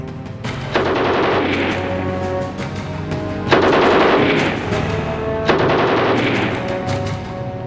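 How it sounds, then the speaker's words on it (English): A German MG-34 machine gun fires three loud, sustained bursts in quick succession, each a rapid rattle of shots with short gaps between, and no voices. "The MG-34, along with a later version, the MG-42, featured both the portability of a light machine gun and the sustained firepower of a mounted medium machine gun"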